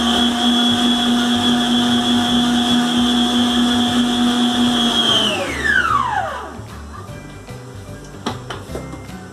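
A blender whirs loud and steady through cornmeal cake batter, then its pitch slides down as the motor spins to a stop, followed by a few light knocks and clatter.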